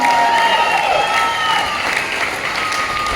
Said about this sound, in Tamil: அவருக்கு ஒரு பெரிய பாராட்டு கொடுத்துடலாம்